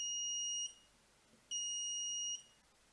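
An active Arduino buzzer covered by its original sticker gives two steady, shrill electronic beeps, each under a second long with a short gap between, muffled slightly but still piercing and close.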